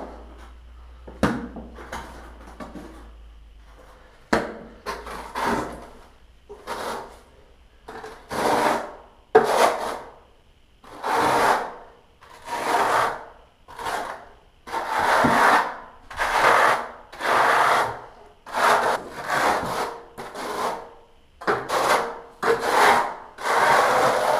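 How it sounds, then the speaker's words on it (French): Tile adhesive is spread with a trowel across a shower-room floor laid over decoupling mats, producing a long run of steady, rhythmic scraping strokes, close and fairly loud, with no talk. "Je dépose de la colle à nouveau."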